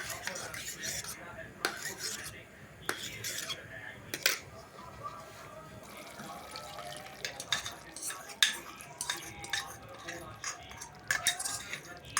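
Butter chicken with milk just added is stirred with a utensil in a pan, giving repeated scraping and clinking strokes at close range, with quiet sizzling underneath and no talking.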